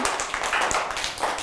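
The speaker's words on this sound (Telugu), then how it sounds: "కరెక్టా క్లాప్స్ కొట్టండి అందరూ" A group claps along during a tabla lesson, giving a brief burst of close, fairly steady hand claps with no voices over them.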